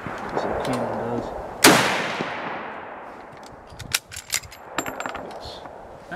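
A single sharp cannon blast booms out and rings away into a long decaying echo, followed by scattered clicks and clatter.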